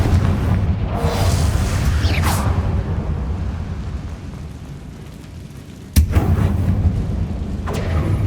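A Confringo spell explosion in the video game Hogwarts Legacy: heavy rumbling booms with a whooshing streak, then a sharp sudden blast near the end, loud and close with a low sustained rumble between hits.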